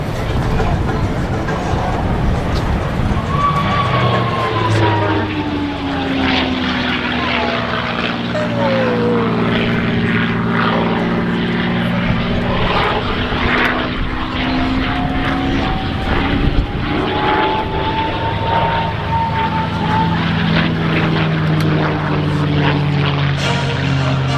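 A P-51D Mustang propeller plane drones past at an airshow, its engine pitch sliding up and then down as it passes, loud and continuous, with faint voices underneath.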